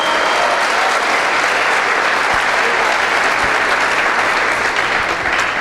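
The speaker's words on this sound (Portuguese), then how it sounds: "Aplauda, pode fazer." A church congregation applauds loudly and steadily, a dense, sustained wash of clapping from many hands that fills the whole stretch without letting up.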